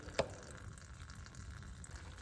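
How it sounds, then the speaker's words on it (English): Water drips from a hose fitting just after a filter change: one crisp drip lands early, followed by a faint, quiet trickle and low background hum. "This is still dripping out a little bit"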